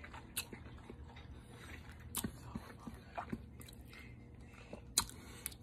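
Someone chewing and biting into moist turkey meatloaf while tasting it, soft wet mouth sounds with a few sharper clicks, close and quiet, without talk.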